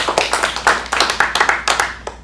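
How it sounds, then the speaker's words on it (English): A small audience claps for child actors at a kids' acting showcase, with brisk, uneven handclaps at close range that fade toward the end and no talk. "Good round of applause."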